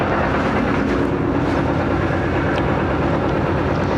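The 122DN Ravi Express passenger train rolls along out of Lahore, a steady, close rumble of wheels and carriage noise with faint rattles, continuous and loud with no talk.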